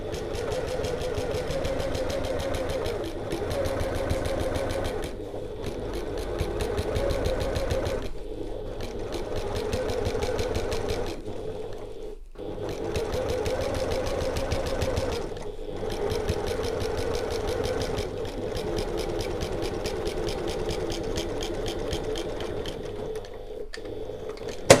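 Sewing machine stitching along the full length of an open-top tote bag, steady whirring runs that stop and restart with brief pauses, close and continuous with no talk.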